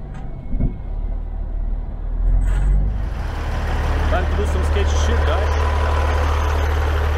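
A Hansen and Atkins truck rumbling past close by, with a deep engine drone building and holding loud, brief brake hiss near the start.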